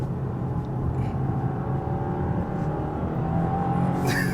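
A 2024 Subaru WRX TR accelerates through a turn onto an expressway, its engine building into a steady, close, continuous drone with rising tone and no talking.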